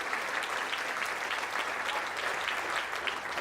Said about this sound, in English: I know you're clapping that way.